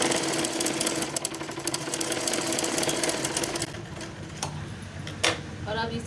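A sewing machine runs a fast, steady stitch along sleeve fabric for a half-inch seam, its dense mechanical whirr continuous for several seconds before stopping, followed by a few brief handling clicks and rustles.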